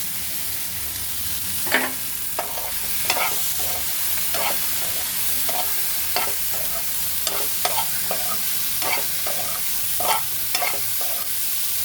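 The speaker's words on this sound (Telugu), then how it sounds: "ఈ పచ్చిమిరపకాయలు కొంచెం నూనెలో వేగిన తర్వాత దొండకాయలు కూడా వేసి కొంచెం వేసుకోవాలి." Green chilies and chopped ivy gourd fry in hot oil for dondakaya pachadi, a steady close sizzle punctuated by repeated scraping stirs of a spoon against the pan.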